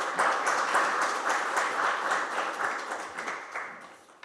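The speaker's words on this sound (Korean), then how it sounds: "큰 박수 부탁드리겠습니다" Audience applause at the founding ceremony of the Korean ultrapure water society, a dense, steady wash of clapping from many hands that swells early and slowly tapers off across four seconds, with no one speaking over it.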